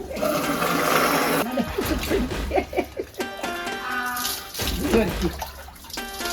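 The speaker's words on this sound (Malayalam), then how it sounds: "ആദ്യം വെള്ളം എല്ലായിടത്തും ആക്കി" Water is poured over a Krishna statue during a ritual bathing, splashing and running steadily in the first seconds, then broken pours and trickles with people talking over it.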